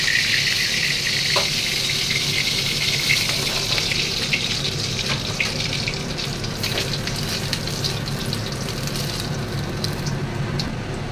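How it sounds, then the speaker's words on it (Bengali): Tilapia pieces fry in oil in a pan for a mustard-paste fish recipe, a loud, continuous close-up sizzle with crackling spatters running evenly throughout. "আমি তো কমই কড়া করে ভাজি"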